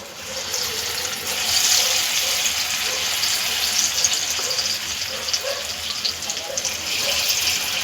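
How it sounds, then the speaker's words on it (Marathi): Chana dal vadas fry in hot oil in a pan, giving a steady, dense hiss and bubbling that stays even and fairly loud throughout, with faint crackles rising above it. "तेल व्यवस्थित तापलेलं आहे आता आपण त्यामध्ये हे वडे सोडून घेऊया"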